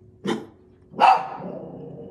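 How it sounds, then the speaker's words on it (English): A pet dog barks indoors, two loud separate barks about three-quarters of a second apart, the second longer with a trailing echo, close to the listener with no talking. "Sorry about my dog."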